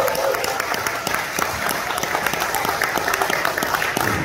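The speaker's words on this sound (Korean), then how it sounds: "이강재 총장님을 뜨거운 박수와 함께 모시겠습니다" An audience gives warm, sustained applause welcoming the keynote speaker at a youth forum, a thick continuous patter of many hands that stays steady and loud from start to finish.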